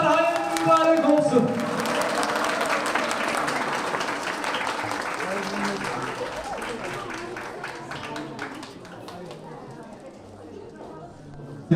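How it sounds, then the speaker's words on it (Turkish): Guests applaud steadily at an engagement ceremony in Yozgat, a dense wash of clapping that carries on for the whole stretch and eases off slightly toward the end, with voices and music mixed underneath. "Alkışlar gelsin, alkışlar"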